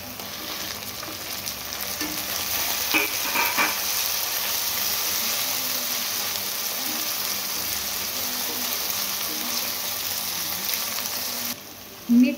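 Onions sizzle steadily in a pan as tomato goes in, a moderate continuous frying hiss with a few stirring scrapes, cutting off near the end before a short knock.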